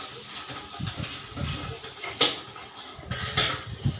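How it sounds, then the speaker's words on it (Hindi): Metal pots and dishes clattering as they slip from aching hands during washing up with cold water, with a few sharp clanks standing out over a steady hiss of running water and background rattle. "देखिए दर्द की वजह से हाथ से बर्तन भी छूट के गिर रहे हैं।"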